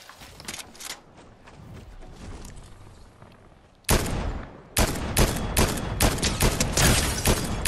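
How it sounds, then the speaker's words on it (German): Fortnite gunfire comes in rapid bursts: scattered shots early on, then after a brief lull a loud, sharp volley of repeated shots with a second burst close behind, near and dominant. "Oh ja, das waren zwei schöne Schüsse."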